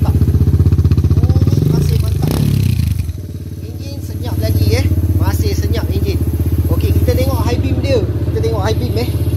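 A KTM 200cc scrambler motorcycle's engine runs close and loud at a steady idle with a brief rev and mechanical clatter partway through, while someone talks over it.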